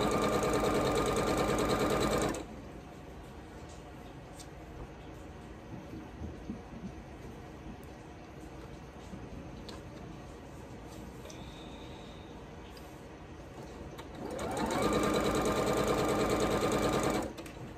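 Sewing machine stitching a scrappy spools cabin quilt block, two loud steady mechanical runs at the start and end with a quiet stretch of faint handling noise between.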